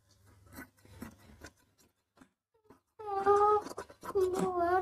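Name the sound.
scissors cutting shirt fabric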